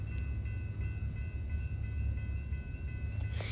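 Freight train rolling past near Rosenberg, a loud, steady low rumble with faint tonal whine running unbroken from start to finish, with no voices.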